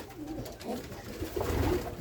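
Pigeons coo softly in low, rounded bursts in a Ukrainian village, a few calls overlapping at moderate distance.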